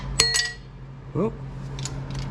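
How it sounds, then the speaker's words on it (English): A small metal nut drops from a 2001 Miata six-speed transmission during removal, giving one sharp metallic clink followed by a brief rattle, close and fairly loud over a steady low hum. "That was a nut. Not a bolt."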